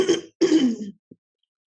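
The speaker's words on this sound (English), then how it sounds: "let me clear my throat." One person clears their throat in two rough, close bursts with a short gap between them, then gives a small final grunt. No other sound is heard.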